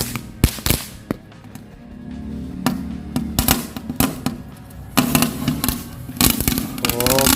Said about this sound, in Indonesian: 1 pak mercon gangsing versus telur mentah.